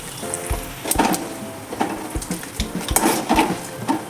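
Dried red chillies crackle and sizzle in hot oil in a pan, a steady frying hiss broken by a few sharp pops and clinks of a utensil against the pan, with no talking.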